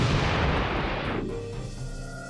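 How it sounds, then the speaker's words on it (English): An M68 105mm tank cannon fires once, a huge close blast whose deep roar rumbles and fades into a low echo over about two seconds. "for the Stryker vehicle, that's the M68 105mm cannon"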